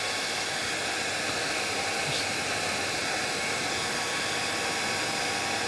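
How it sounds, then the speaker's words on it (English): A hair dryer blowing on fly-tying fibres while tying a CDC daddy fly, a steady loud close-up hiss of rushing air that holds unchanged throughout. "use a hairdryer just to open these fibres out just to see how they're sitting"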